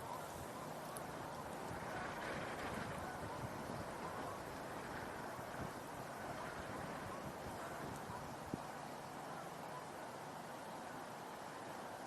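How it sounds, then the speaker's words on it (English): Light wind blowing outdoors on a birdwatching tour, a steady broadband rush and buffeting that lasts the whole stretch without a break. "There is a little bit of wind."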